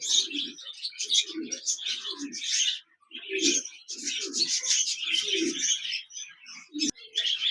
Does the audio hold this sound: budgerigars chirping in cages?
yes